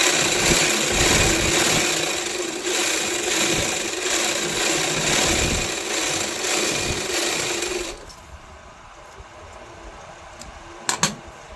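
A sewing machine hums loudly and steadily through a long run of stitching on a lined kameez, then stops abruptly. Quieter room tone and a couple of sharp clicks follow.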